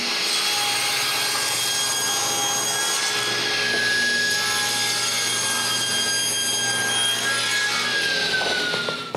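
A hand saw cuts a handle out of a piece of sapele wood with steady back-and-forth strokes, loud and close, the rasping continuing without pause and no talking over it.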